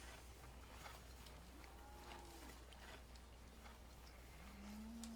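Cattle in the Farming Simulator 17 game let out a low moo, with a sustained lowing call rising near the end over a steady ambient background hum.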